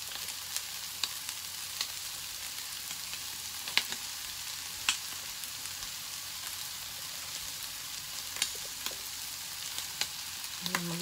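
Vegetables and fried tofu sizzle steadily in a pan for palabok, a soft, even crackle with scattered sharper pops and no talking.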